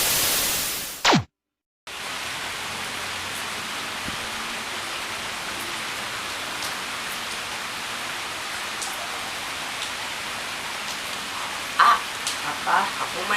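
Steady rain falls in a dense, even hiss with scattered drop hits, loud and continuous after a brief cut near the start, with faint voices at the end.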